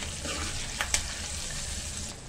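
Peanuts with chana dal and urad dal fry in hot oil for tamarind pulihora, a soft steady sizzle broken by a couple of brief stirring clicks, quiet and close.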